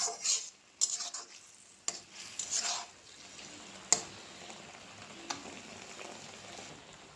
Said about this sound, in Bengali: মাঝখান দিয়ে এইভাবে নাড়াচাড়া করে দিতে হবে, না হলে নিচে লেগে যাওয়ার সম্ভাবনা আছে।